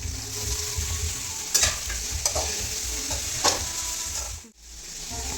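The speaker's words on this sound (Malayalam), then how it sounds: "ആദ്യം വെളിച്ചെണ്ണ ഒഴിച്ച് വെളിച്ചെണ്ണ ചൂടായ ശേഷം സവാള ഇട്ട് കൊടുക്കണം" Onions fry in hot coconut oil, a soft continuous sizzle broken by a few sharp scraping strokes of a spoon stirring the pan, close and fairly quiet with no talking.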